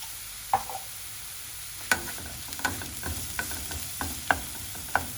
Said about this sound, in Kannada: ಗೋಲ್ಡನ್ ಬ್ರೌನ್ ಆಗೋ ತನಕ ನಾವು ಆನಿಯನ್ನ ಚೆನ್ನಾಗಿ ಫ್ರೈ ಮಾಡೋಣ.